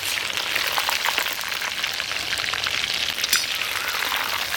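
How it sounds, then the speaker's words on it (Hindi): Chicken pieces frying crisp in oil in a kadhai: a dense, steady close sizzle with crackling pops throughout, no talking. "इसे अच्छा से हम पलट पलट के क्रिस्पी फ्राई कर लेते हैं।"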